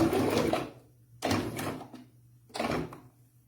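A sewing machine stitches bias binding around a garment's armhole and neckline, running in three short bursts with pauses of near silence between them and no talk.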